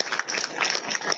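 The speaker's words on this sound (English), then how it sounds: "Let's give them a nice round of applause" A small audience at a talk on mushrooms of Baja California gives a round of applause, with fairly faint, dense clapping throughout the brief moment.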